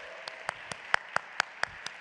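Scattered handclaps from a community forum audience, a sparse series of separate claps spaced roughly a quarter second apart, moderately close and fairly light rather than a full ovation.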